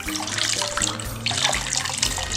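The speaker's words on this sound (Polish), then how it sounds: "I to wszystko tylko i wyłącznie z tej gąbki wylatuje." Dirty water pours steadily out of a heavily soaked, grime-clogged sponge, a continuous close splashing trickle with no talk.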